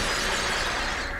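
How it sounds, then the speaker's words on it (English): Glass shattering in The LEGO Movie Video Game, one loud, bright crash of breaking glass that fills the whole brief moment at close range. "You're close, so gonna break the glass."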